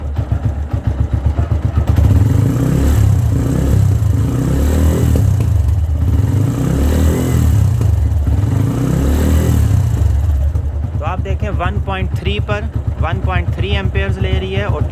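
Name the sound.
self-start motorcycle engine being revved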